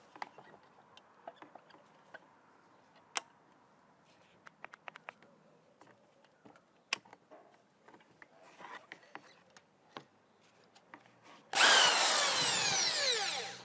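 A power drill fitted with a small 20mm hole saw bites in and cuts a hole, a loud sustained whine arriving suddenly near the end after scattered light taps and clicks.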